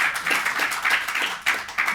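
Audience clapping at a tech talk on observability, a steady patter of many hands with uneven bursts of applause filling the whole moment, moderately loud and close, with no speech over it.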